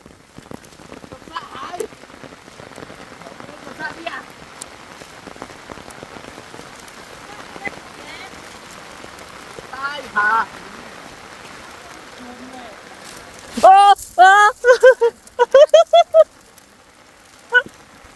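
Rain falling outdoors, a soft steady patter under the whole stretch, with someone talking intermittently over it and louder bursts of speech near the end.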